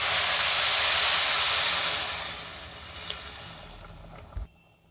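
Hot water poured onto sautéed rice in a pressure cooker for masala corn pulao: a steady, loud broadband hiss and rush that gradually fades, ending with a brief low thump before it cuts to near silence.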